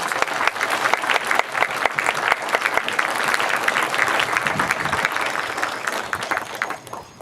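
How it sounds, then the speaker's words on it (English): A graduating class at The Knox School's 2018 commencement receives sustained applause from a large audience: a dense, steady wash of many hands clapping for about seven seconds, with no talking over it. "I think we should give them a round of applause"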